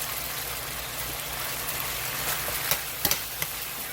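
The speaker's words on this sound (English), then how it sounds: "As long as you keep enough oil in the bottom of that pan, they will cook until they get done" Chicken wings fry in oil in a pan with a steady, hissing sizzle that continues throughout, broken near the end by a few sharp pops and crackles.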